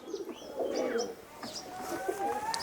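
Laldama pigeons at a pigeon sale in Kolkata coo softly and repeatedly, several low warbling calls close by over a faint background murmur, with no clear talking.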